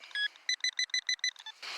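A Nokta Makro Simplex metal detector, swept over grass in a playground, gives a quick series of about seven short, clear electronic beeps, followed by a brief soft hiss.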